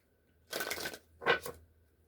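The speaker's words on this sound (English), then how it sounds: "these cards didn't want to shuffle" Two quick bursts of an oracle card deck riffling and snapping together, close and crisp, separated by a brief pause in an otherwise quiet room.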